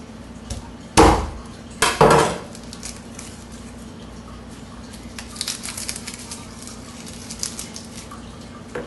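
A kitchen knife chops garlic on a cutting board, a few sharp knocks up front followed by lighter, quicker taps, close and alone over a steady background hum.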